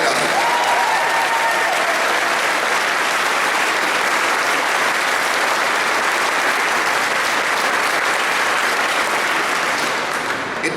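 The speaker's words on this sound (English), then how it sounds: "I want to again give them a round of applause for all they have done." At a political rally in Iowa against gay marriage, a large crowd applauds in a loud, sustained wash of clapping that holds steady throughout.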